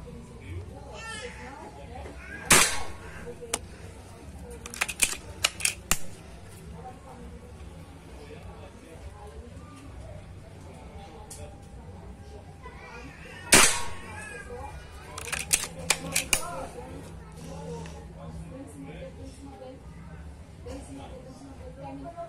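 An air rifle fires LDW 5.5 pellets at a target 18 metres away, giving sharp cracks in scattered bursts over a low background, with people talking throughout.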